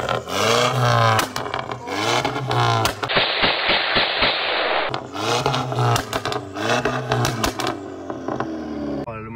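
A tuned VW Golf 6 GTI Edition 35 making around 350 hp fires up in a loud, harsh burst that roars between bursts of talk nearby.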